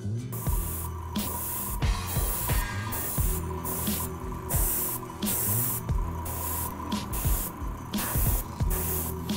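Airbrush spraying thinned Angelus glow-in-the-dark paint, a close steady airy hiss broken into regular bursts of about a second, with a low hum running beneath.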